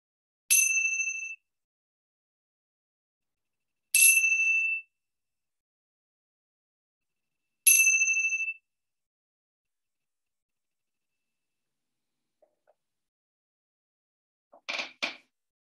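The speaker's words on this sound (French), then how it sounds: "laissez résonner en vous la sonnerie de la cymbale à 3 reprises" A meditation cymbal is struck three times at roughly four-second intervals. Each strike gives a bright, clear ring that fades within about a second into near silence, and a faint rustle follows at the end.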